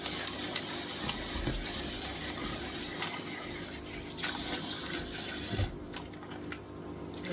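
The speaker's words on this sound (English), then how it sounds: "I'm going to run the water again." Tap water runs steadily into a sink while beans for moi-moi are being washed, a continuous close splashing gush that briefly changes character near the end.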